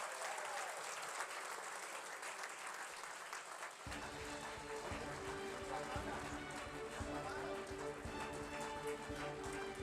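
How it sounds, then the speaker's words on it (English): Sustained audience applause fills a hall at a university awards night, starting moderate and swelling into a dense, loud ovation that continues to the end. "Big round of applause, please."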